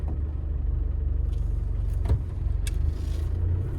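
A 1995 Range Rover County diesel pulls away and runs up through second, third and fourth gear, its engine a steady low rumble close by with slight rises in pitch between shifts and no voices.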